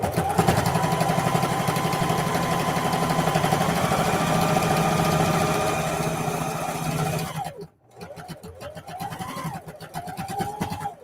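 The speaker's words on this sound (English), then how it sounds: "I'm just going to sew like 1/8 inch or just right to the edge" A sewing machine runs a steady, continuous stitch along the seam of a lunch tote bag, close and loud for about seven seconds. It stops briefly, then starts again with a few shorter runs.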